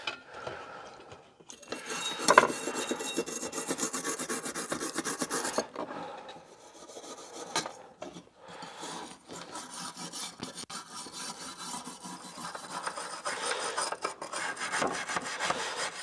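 Scratchy abrasive rubbing scours rust off the metal of a Coleman double mantle lantern. The close rasping strokes come in bursts separated by short pauses, with faint metallic clinks and no talking.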